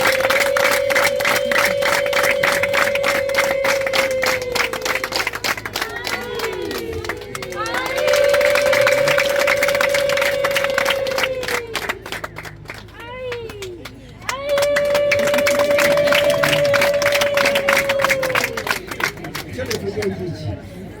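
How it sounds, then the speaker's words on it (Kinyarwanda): An audience on its feet gives a standing ovation, dense rapid clapping running throughout with voices and a sustained sung or ululating tone over it; the noise dips briefly mid-way, then swells back up. "uguha amashyi uhagaze"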